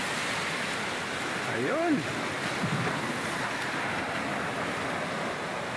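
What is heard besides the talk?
strong sea waves at a rocky beach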